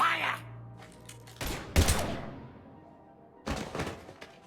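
Gunfire in the video game Mass Effect 3: several loud, sharp broadband bursts in quick clusters, with a lone crack in the middle and another volley near the end over a low background hum.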